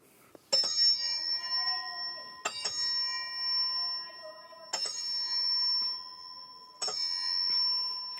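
A metal bell is struck four times at roughly two-second intervals, each bright ring sustaining and fading before the next.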